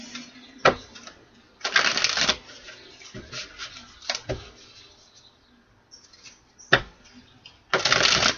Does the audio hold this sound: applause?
no